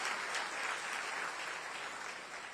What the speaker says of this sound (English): Let's give him a big round of applause and welcome him in the community of chartered accountants